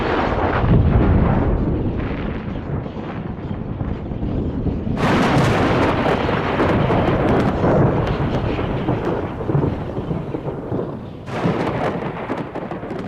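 Thunder from lightning bolts, a loud, deep, continuous rolling rumble with two sharper cracking surges partway through and no voices.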